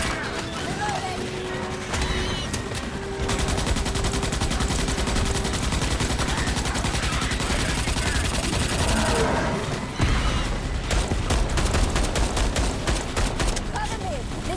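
Dense automatic gunfire from the Starship Troopers: Extermination video game rattles continuously at close range. Loud bursts are broken by brief gaps, and occasional voices are buried under the shooting.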